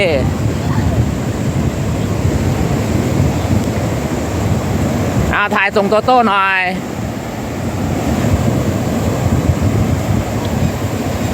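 Sea surf at Laem Mae Phim beach in Rayong, Thailand, gives a steady wash of wave and wind noise, briefly interrupted midway, while people talk over it.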